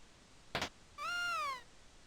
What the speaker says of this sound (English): Is that a cat I just heard?